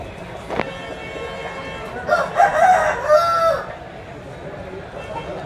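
A country rooster crows once amid the bustle of a Sunday open-air native chicken market in Vizianagaram district, a clear mid-distance call over steady crowd murmur and background chatter.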